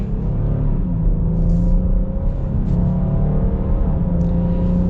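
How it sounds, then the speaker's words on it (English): A 2021 Jeep Cherokee Trailhawk with a 9-speed automatic accelerates, its engine a steady, close, loud rumble that stays continuous throughout with no voices over it. "we are going to get our acceleration here with the Cherokee"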